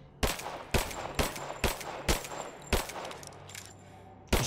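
Gunfire in the video game Rise of the Tomb Raider rings out as a series of sharp, evenly spaced shots, around eight loud cracks over a few seconds with faint ringing tails between them.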